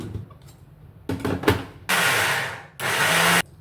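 A kitchen grinder works on soaked urad dal with a little added water while making millet idli and dosa batter. It runs in two loud whirring bursts, each under a second, after some softer handling clatter.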